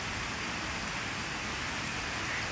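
Rain falls steadily as an even, continuous hiss, fairly quiet and constant across the whole stretch with no voices over it.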